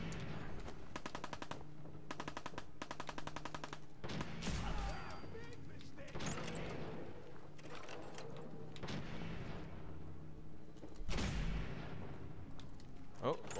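Gunfire from a favoured gun in Fallout 4, heard as bursts of rapid shots with heavier booms near 5 and 11 seconds, loud and close, with someone talking over parts of it.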